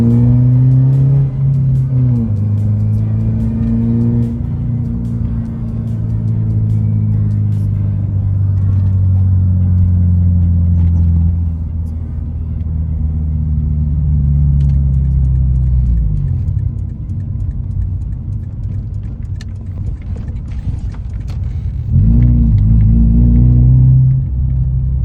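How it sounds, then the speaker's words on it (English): A car engine revs loudly several times, pitch rising and falling through a few throttle blips before settling back to a deep idle rumble. "I'll give you guys a quick few revs on this car so you guys can get a little idea of what it sounds like."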